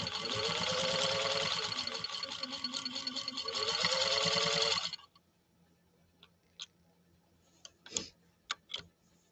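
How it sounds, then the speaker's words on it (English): A 1949 Canadian Singer 15-91 sewing machine runs smoothly with an even, rapid ticking hum for about five seconds, then stops, leaving a few faint clicks and taps. "listen to this machine and just how silky smooth it runs now"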